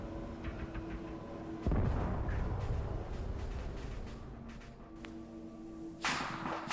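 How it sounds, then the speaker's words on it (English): A tank taking fire in Arma 3: a heavy, close boom bursts over a steady engine rumble and is followed by debris and lingering crackle, then a second sharp blast near the end, with no talking. "I think my friendly tank just got shot"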